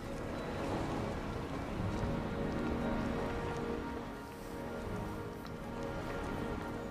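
Steady rain falling indoors in the video game Heavy Rain, a quiet continuous patter and hiss with no breaks, heard alone throughout.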